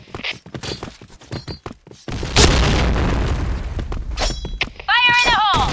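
A grenade detonates in the shooter game Point Blank during a clan war match, a loud booming blast with rumbling debris that follows short bursts of talk and clicks, then another blast at the end.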